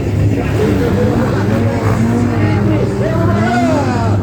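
Motorcycles, a Kawasaki among them, rev and cross each other on a track at a motorcycle meet in Imbé, a loud, sustained engine drone with rising and falling pitch as the bikes pass, with people talking over it.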